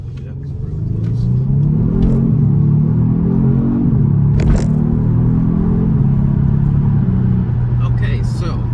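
A Kia Stinger engine hums in a steady, loud, close rumble with gradual rising pitch as it revs through its 8-speed transmission in manual mode, one brief bump midway.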